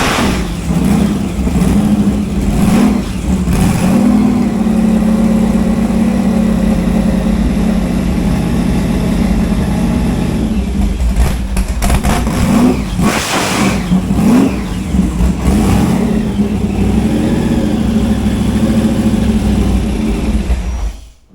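A speedboat engine, started up inside a garage, revs loudly and steadily for about twenty seconds, with a deep throbbing rumble and a few sharper throttle surges toward the middle.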